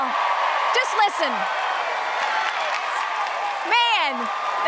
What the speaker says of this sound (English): the crowd is going crazy for Chris Young and Famous Friends